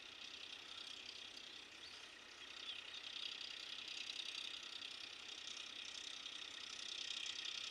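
A tractor pulling a rotavator through a farm field being prepared for sowing coriander gives a steady, fairly faint engine drone mixed with broad hiss, continuous throughout with no talking.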